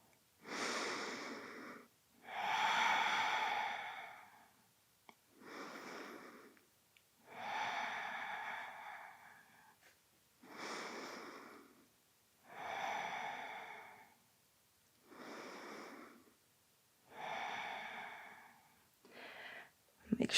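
Slow, audible breaths through the nose during a seated yoga glute stretch, about eight even inhale and exhale cycles spaced two to three seconds apart, close and clear with no talking.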